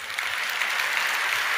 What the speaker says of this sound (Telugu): ముష్టేసినట్టు మీరు చప్పట్లు కొడుతుంటే